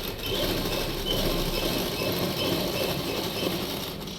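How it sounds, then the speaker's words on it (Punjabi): A sewing machine runs steadily, stitching piping along the edge of cloth: a continuous close mechanical whir with a fast even rhythm and no talking. "ਬਿਲਕੁਲ ਨਾਲ ਨਾਲ ਤੁਸੀਂ ਸਲਾਈ ਲਗਾਉਣੀ ਹੈ ਜੀ"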